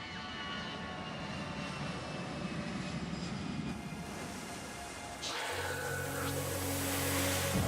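An airplane engine roars steadily and loudly throughout, a continuous broad drone that shifts slightly in tone partway through, with no talking.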